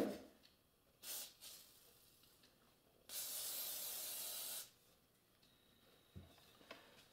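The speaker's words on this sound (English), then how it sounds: "I've laced this down with a little WD-40" WD-40 lubricant hisses from an aerosol can onto an engine cylinder ahead of honing: a couple of brief spurts, then one longer steady spray of about a second and a half, close and clear.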